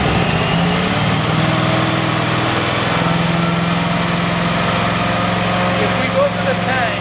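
A Prowler 20 LP truckmount carpet cleaner engine runs loud and close, a steady droning hum that holds throughout and rises slightly as the RPM goes up.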